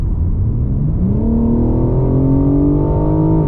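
A 2023 BMW G80 M3 Competition xDrive with its fast ZF automatic accelerates hard on kickdown, the engine note rising steadily in pitch as a loud, continuous howl carries right through the short burst.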